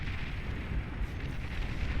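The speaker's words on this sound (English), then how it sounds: "Oh, that Banisher missile missed entirely." A Banisher missile explodes in the Beyond All Reason strategy game, a dense rumbling low-end blast of noise with crackling bursts that fills the whole moment without a clear single impact.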